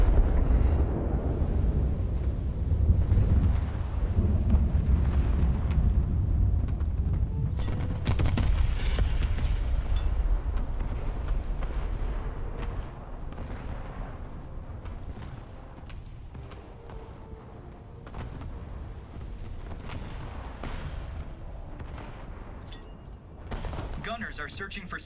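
Heavy naval gunfire in a warship battle game as main battery guns fire at the Bayern: deep booming blasts and rumble, loudest early on, with sharp reports scattered through and speech at times on top.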